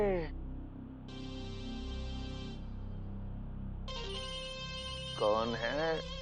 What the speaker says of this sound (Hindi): सुबह सुबह किसका फोन आ गया?